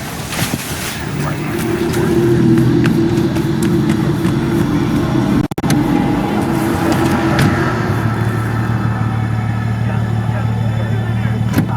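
Car driving in Cyberpunk 2077, a steady engine and road rumble at close range throughout, with a brief dropout midway and a shift in engine tone near the end.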